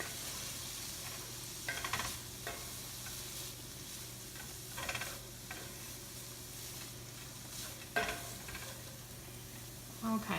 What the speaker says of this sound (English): Let's get this moving around in the pan. I'm stirring up my pasta.